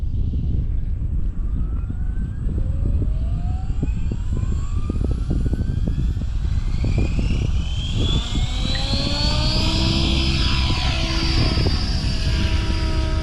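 A small model helicopter's motor and rotor whine steadily at idle at close range, with a continuous buzzing drone and pitch shifting up and down throughout.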